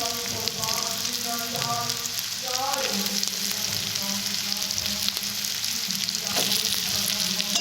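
Fried potatoes and carrots tipped into a pan of hot oil with turmeric and chilli for carrot biryani, giving a loud, continuous sizzle and spatter. A voice is faintly heard early on.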